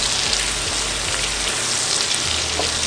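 Dried oregano sizzling in hot oil in a pan over medium heat, a steady close broadband crackle and hiss that runs unbroken and alone, with a low rumble underneath.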